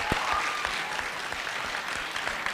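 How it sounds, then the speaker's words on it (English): Applause from a student senate simulation audience, a fairly quiet, even patter of clapping from a modest group that holds steady for the whole stretch. "whether you agree or disagree, round of applause"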